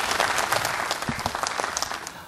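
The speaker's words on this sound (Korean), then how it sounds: "여러분 큰 박수로 환영해 주시기 바랍니다." An audience at a Lions service awards ceremony claps to welcome a district governor to the stage, a lively burst of applause with some distinct individual claps standing out before it tapers off.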